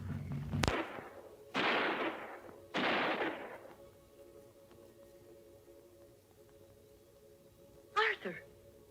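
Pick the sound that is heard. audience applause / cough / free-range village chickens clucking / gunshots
gunshots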